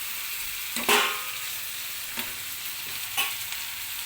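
Egg curry fries in oil in a pan with a constant soft sizzling hiss, broken by a few sharp clinks of a stirring spoon.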